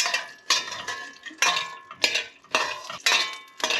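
Grated carrot for carrot halwa is stirred in ghee left over from frying cashews, with repeated scraping strokes of a spoon against the pan in bursts and a light sizzle between them.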